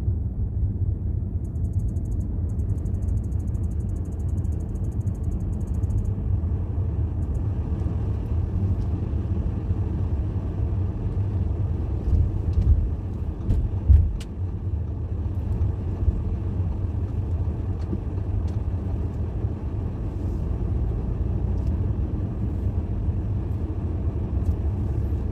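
Heavy traffic on a hot day, a continuous low rumble of car engines idling and creeping, with a brief louder thump near the middle.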